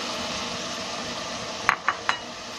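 Minced meat frying in a pan with garlic and ginger for chonga keema gives a steady, even sizzle, then three quick metallic clinks of a spoon stirring near the end.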